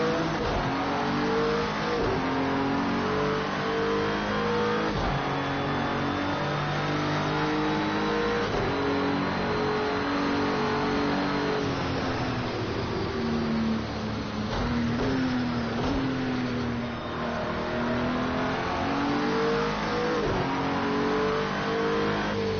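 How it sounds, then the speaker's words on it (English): An Acura NSX GT3 race car in Project Cars 2 laps Sonoma Raceway, its engine droning steadily and loudly throughout, rising and falling in pitch as it revs through the gears. "We're at Sonoma, and we are driving in the Acura NSX car."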